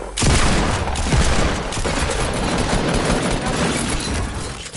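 Dense, continuous gunfire from a video game shooter match, loud rapid bursts crackling almost without pause over the whole stretch, with no talk.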